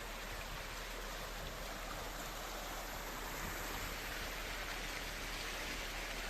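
Heavy rain in southern Taiwan pours down as a steady, dense roar of falling water, continuous and loud throughout with no voices.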